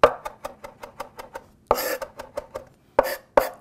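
A knife rapidly minces fresh flat-leaf Italian parsley on a cutting board, a close, even run of sharp chopping taps with a few heavier, louder strikes breaking up the rhythm.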